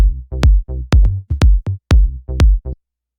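Electronic tom hits with the low end removed alternate with a deep synth bass in an Ableton Live track, punchy answering notes in a quick syncopated pattern, close and clear, ending in silence.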